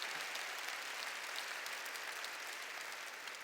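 A church congregation claps together in a large sanctuary, a dense, even wash of applause sustained throughout at moderate distance, with no speech over it.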